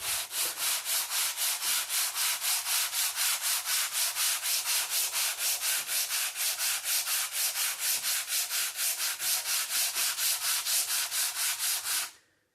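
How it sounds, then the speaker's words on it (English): Hand sanding of body filler patching a cracked antique snooker table slate: steady back-and-forth rasping strokes, close and loud, about three per second, ending abruptly. "And now the tedious task of sanding it down."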